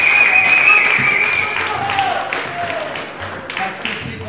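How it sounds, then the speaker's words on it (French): Audience applause in an outdoor stadium at a cabaret show, a steady dense wash of clapping and crowd noise that gradually fades. "Je crois que vous pouvez les applaudir encore un peu plus fort."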